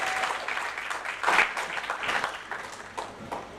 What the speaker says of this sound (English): We'll let the applause continue.